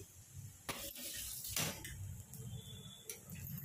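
Cooked potato and crushed peanuts are stirred in a pan, a utensil scraping and knocking against the metal with a few sharp clinks over a soft background hiss, close and fairly quiet.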